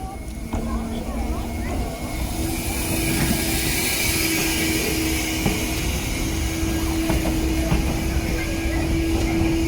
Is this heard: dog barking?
no